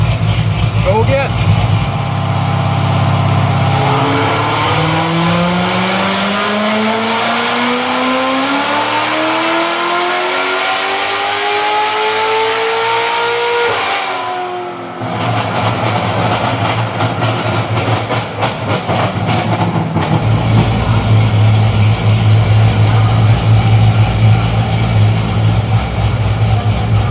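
A Chevrolet Corvette ZR1 engine revs through a power pull on a dyno, rising steadily in pitch to a loud peak before cutting off, then settling into a heavy idle drone, with people talking.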